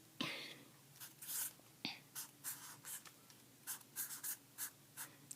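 Pencil drawing on paper, with short scratchy strokes coming in irregular bursts, close and quiet, nobody speaking.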